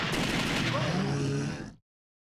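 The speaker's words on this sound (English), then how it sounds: "Shoot the dead attacking you." Gunfire from The House of the Dead 2 arcade shooter: a dense, loud burst of rapid shots with heavy rumbling that runs without pause for nearly two seconds, then cuts off sharply into silence.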